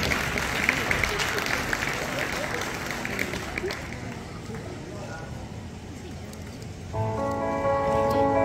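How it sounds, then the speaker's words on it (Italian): Audience applause at an outdoor singing contest in Belvedere Ostrense: dense, even clapping from a crowd that carries on for several seconds and then gives way to music starting near the end. "3, 2, 1, applauso e musica."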